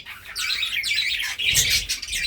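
Budgerigars chirp and warble in quick, overlapping bursts. The chatter is close and fairly loud, with no talking.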